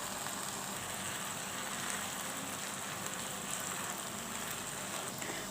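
Onions and peppers frying in a pan during stirring, a steady, even sizzle with a hiss like rain throughout, close and moderately loud.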